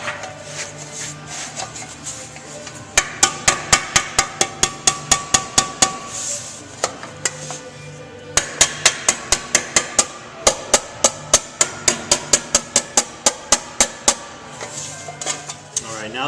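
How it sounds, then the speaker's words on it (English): Rapid metallic body hammer taps ring out in quick, even bursts, planishing the sheet metal of a chopper gas tank, pausing briefly between runs, close and sharp. "we're going to use just a body hammer to just do light planishing"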